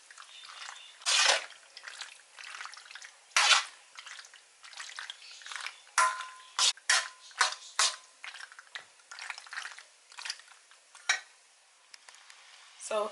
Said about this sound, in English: Now I'll stir my pasta into this